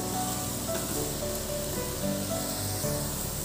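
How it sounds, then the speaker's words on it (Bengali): Onions frying in a pan for a Bengali cauliflower and potato curry, giving a steady close sizzle with light crackles and occasional stirring scrapes, no voices. "পেঁয়াজটাকে আমি 2-3 মিনিট ধরে ভেজে নেব।"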